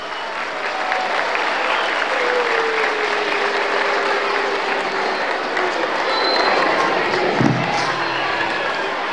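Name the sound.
applause for the parents' council president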